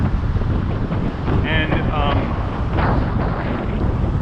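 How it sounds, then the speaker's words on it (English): Strong wind buffets the microphone outdoors on a New York City street during a bike chat, a dense, constant rumbling roar that nearly buries a brief spoken word. "it is pretty windy here, so I don't know how much is going to come through on the audio"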